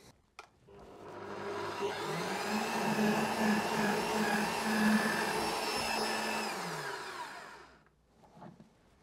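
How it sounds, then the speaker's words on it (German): A power screwdriver drives screws into a wall latch for a wheelbarrow, a steady loud motor whir with a strained, rising whine lasting several seconds before stopping, with a short click at the start. "Schnell ein, zwei Schrauben hier reingemacht"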